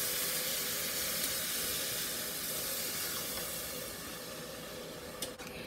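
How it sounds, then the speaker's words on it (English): Evaporated milk pours steadily into a hot pot for cheesy chicken spaghetti, giving a continuous loud hissing, sizzling wash that fades slightly toward the end, followed by a couple of faint knocks. "Going to add in 2 cups of my favorite milk in the world,"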